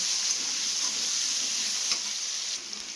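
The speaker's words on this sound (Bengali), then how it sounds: "আলুটা একটু লাল লাল করে ভেজে তারপর দেবো মশলাটা" Potatoes fry with bay leaves in hot oil, sending up a continuous close sizzle with faint stirring clicks and no voices.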